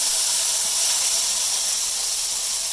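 Tomatoes sizzle in hot oil with browned dried red chillies while carrot chutney is being cooked, a loud steady close hiss with no other sounds.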